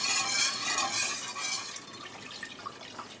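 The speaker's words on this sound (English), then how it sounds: "I'm slowly going to start whisking it into the roux" Milk is whisked into a thick flour-and-butter roux for homemade mac and cheese, a steady close swishing and sloshing that turns quieter and softer, with faint metallic taps of the whisk against the pan.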